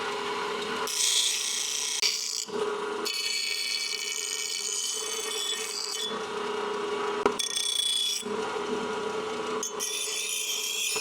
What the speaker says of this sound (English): I'm going to grind this down a little bit here.